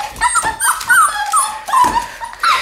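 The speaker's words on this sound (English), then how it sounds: "So I may have woken the puppies up." Puppies whimper and yip in repeated high, rising cries, loud and close, with short gaps between the calls.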